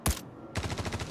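Gunfire from an S-71 rifle in the video game Star Citizen: one loud shot, a short pause, then a rapid burst of about seven evenly spaced shots, close and dominant.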